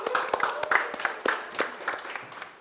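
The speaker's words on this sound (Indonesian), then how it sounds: "Tepuk tangan untuk tim Malin." An audience applauding team Malin at a stage event for a modern take on the Malin Kundang legend: a short burst of scattered hand claps, moderately close, with faint murmuring underneath.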